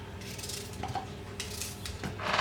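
Fruit being roughly chopped with a knife for a pineapple, banana, apple, strawberry and cherry smoothie, giving a few scattered close taps and soft squishy cuts against a board, with kitchen clatter and no talking.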